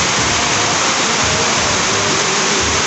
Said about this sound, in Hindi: बारिश की रफ्तार, बहुत ज़ोर से बारिश है